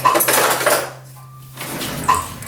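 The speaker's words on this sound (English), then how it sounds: "Get a spoon." Metal cutlery clatters as a spoon is fetched from a kitchen drawer, a close, brief jangle and rattle with a short quiet gap in the middle.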